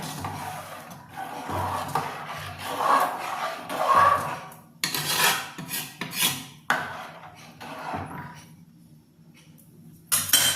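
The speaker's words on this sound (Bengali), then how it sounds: "এবার আরো একবার ভালো করে আমি মিশিয়ে নেব।" Payesh, rice pudding already mixed with sugar, stirred in a pot: repeated scraping, rubbing and clinking of a spoon against the metal, close up, in uneven bursts with brief pauses and no talk.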